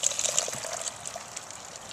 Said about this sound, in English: There you go. There's the water.